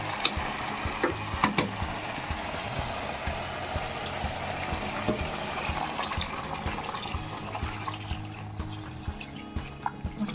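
Water is poured into a pot of haleem curry, a steady liquid splashing and trickling with scattered drip-like clicks running throughout, no voices.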